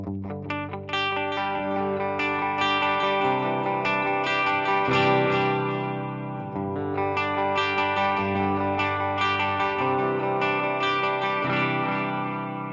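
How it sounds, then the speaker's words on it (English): An electric guitar on a Fractal AX8 plays a continuous melodic line through a stereo ping pong delay, repeats bouncing back and forth, giving a spacious, echoing sound over about thirteen seconds. "ping pong, which is going to be your back and forth kind of sound."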